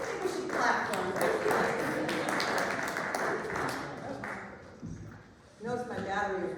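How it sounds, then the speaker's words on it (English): A church congregation applauds the singers at a Sunday service. The clapping is quick and scattered and of middling loudness, thins out near the end and then briefly swells again, with some voices murmuring underneath. "I think we should clap for them."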